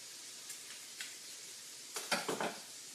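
Shrimp for General Tso shrimp sautéing in a hot saute pan gives a quiet, steady sizzling hiss, with a few louder spatters and soft pan clatters bunched near the end.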